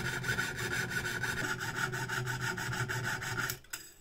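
A jeweller's fret saw cuts with quick, even strokes, a steady rhythmic rasp heard up close, until the blade snaps near the end and the sawing stops abruptly.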